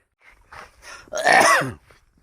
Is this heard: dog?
no